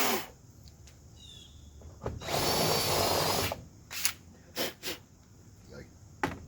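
A power tool grinds briefly at the bottom of a homemade jon boat pontoon, about a second of harsh buzzing, followed by a few short taps and knocks in a quiet workshop space.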